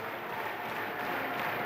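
A capacity crowd at a Naismith Classic basketball game between Waterloo and Bishops cheers and applauds, producing a steady, dense roar of clapping and voices with no breaks.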